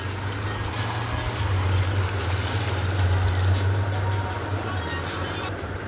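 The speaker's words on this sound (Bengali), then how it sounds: "এবারে পরিমাণ মতন আমি জলটা দিয়ে দিলাম" Water poured into a cooking pot of potato and taro for a Bhola fish curry, a continuous rushing splash and gurgle lasting several seconds, close and fairly loud with a low hum underneath.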